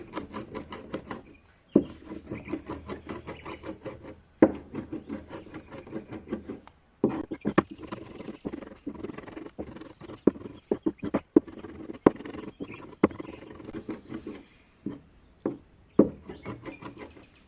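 Knife chopping fresh nettles on a cutting board for a nettle tartare, a steady run of quick close taps and knocks with short pauses as the leaves are gathered and chopped again.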